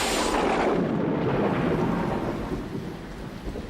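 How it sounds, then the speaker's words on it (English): Thunderstorm with steady heavy rain and a deep rolling rumble of thunder, loud and close, slowly easing toward the end. "It's going to rain!"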